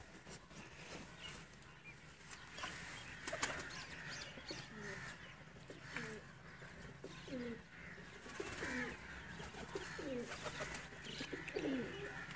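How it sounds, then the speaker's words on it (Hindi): A Ferozpuri pigeon coos in a short series of soft, repeated calls, growing more frequent toward the end over a steady background hum. "बतख पैरे और फिरोजपुरी कबूतर जी"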